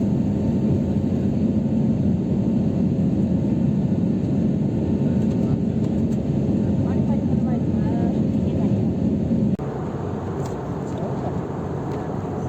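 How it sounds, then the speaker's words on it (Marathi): Cabin noise inside an airplane in flight over Chhatrapati Sambhajinagar: a loud, unbroken low roaring drone that dips slightly in level about three-quarters through, then carries on just as steadily. "एरोप्लेन मध्ये बसल्यावर हा असा आवाज येतो।"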